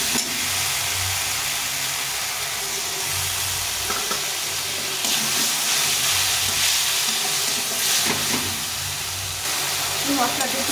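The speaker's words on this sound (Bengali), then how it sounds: "এক চামচ জিরে গুঁড়ো আর একটু লঙ্কা গুঁড়ো কেটে দিয়ে ভালো করে কষিয়ে নেব" Cumin powder and chili powder sizzle steadily in hot oil while being fried, a continuous crackling hiss with occasional stirring scrapes and a low background hum.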